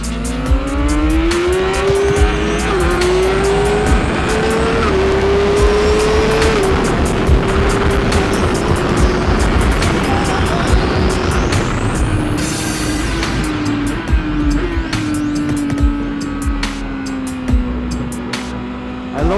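A 2015 BMW S1000RR sport bike with an HP ECU tears around a race track under heavy wind roar, its engine rising and falling through the gears with continuous, loud, close-up revs.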